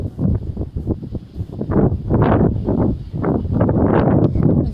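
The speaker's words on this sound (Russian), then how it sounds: "Ветер очень сильно, даже стоять тяжеловато" Strong wind buffets the microphone at the seaside, with sailboats and motorboats out on the waves, a loud continuous roar surging in gusts throughout.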